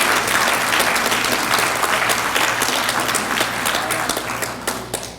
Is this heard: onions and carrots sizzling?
no